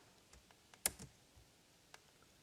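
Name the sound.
typing code on a computer keyboard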